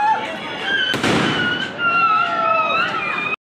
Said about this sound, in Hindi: पटाखे शॉट